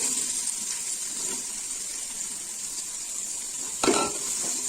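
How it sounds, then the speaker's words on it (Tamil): Sliced large onions sautéing in oil with cloves and cinnamon give a steady close hiss and sizzle, with a brief clatter of the spatula against the pan near the end, no talking. "நல்லா வதக்கி விடுங்க"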